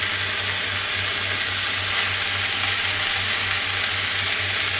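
Peppers and onions sizzle steadily in a hot frying pan over high heat, a dense continuous crackle with a low hum underneath, close and fairly loud with no voices.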